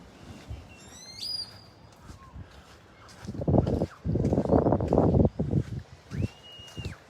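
A bird calls outdoors along a path near a beach in La Cruz de Huanacaxtle, Mexico, with a few thin high chirps and whistles over louder rustling, shuffling noise in the middle.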